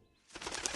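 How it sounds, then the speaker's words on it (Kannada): In an animated story, a bird flaps its wings as it takes off. After a short silence comes a brief, soft flurry of wingbeats with a faint chirp. "ಆ ಪಕ್ಷಿನೂ ಕೂಡ ಹಾರಿ ಹೋಯ್ತು"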